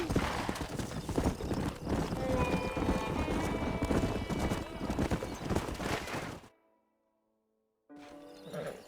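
Rhythmic clip-clop of horse hooves at a steady trot in the game Red Dead Redemption, with a horse whinnying partway through, then a sudden cut to silence and a brief return.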